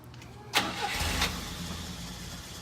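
A Volvo military vehicle engine cranks and catches, then settles into a steady low idle rumble, fairly close.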